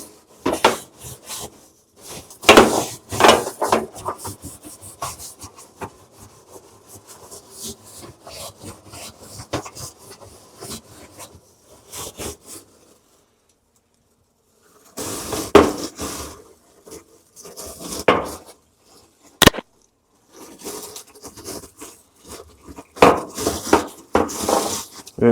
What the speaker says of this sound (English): we're just going to use this little brush to hopefully just loosen up some of the gunk